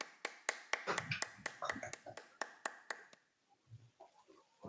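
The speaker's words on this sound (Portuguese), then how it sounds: "Uma salva de palmas ao guerreiro, bombeiro," Applause in a municipal council chamber at the opening of a session: a steady run of sharp, evenly spaced claps that fades out after about three seconds, with scattered quieter noises after.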